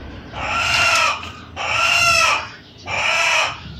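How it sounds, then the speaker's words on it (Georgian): A hen cackles loudly and close by after laying an egg, three long squawking bursts separated by brief pauses, with no talk over them. "ნეტა იმ ქათამს რაღა აკივლებს"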